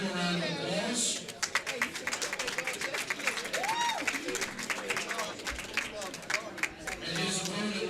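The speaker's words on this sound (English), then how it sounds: "Let's give him a round of applause." Crowd at a junior nine-ball pool championship clapping and chattering as a player is introduced, scattered claps and voices mixing together at moderate volume.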